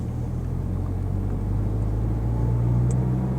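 A manual-transmission car engine drones low and steady as the driver shifts into third gear in slow traffic, the hum rising slightly in pitch toward the end, with no speech.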